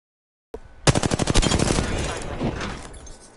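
Rapid automatic gunfire in an online shooter game on PS4, a loud burst of evenly spaced shots starting abruptly after a short silence, then tailing into a dense rattle and fading.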